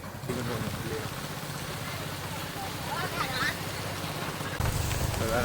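Steady, dense hiss of heavy rain pouring onto pavement in Chankanai, Jaffna, continuous throughout, with faint voices and a brief louder rumble near the end.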